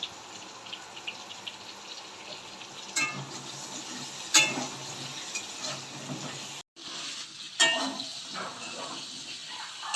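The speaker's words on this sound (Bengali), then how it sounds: "হলুদ দিয়ে ভালো করে ভেজে নেব।" Pointed gourd and potato pieces fry in oil with turmeric and salt, a soft continuous sizzle broken by several sharp scraping stirs of a utensil in the pan.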